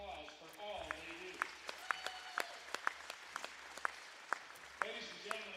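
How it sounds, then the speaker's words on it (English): Scattered, sparse clapping from a gym crowd honors the officials at a high school girls' varsity basketball game. The claps are faint and distant, with voices at the start and end. "Please join us in giving these officials a round of applause for all they do."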